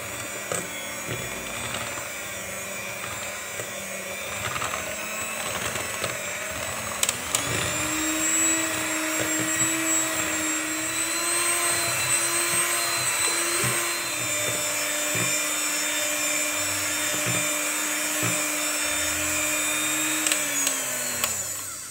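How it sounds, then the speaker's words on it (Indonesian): Electric hand mixer beating cake batter of eggs, sweetened condensed milk and vanilla powder at high speed, a steady loud motor whine that shifts pitch partway through and runs continuously for the whole stretch. "Lalu mixer dengan kecepatan tinggi sampai putih mengembang."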